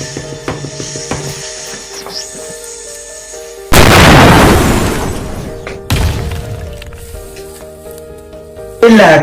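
New Year firecrackers burst loudly close by, three sharp blasts each trailing into a crackling hiss, with rustling and fizzing between them.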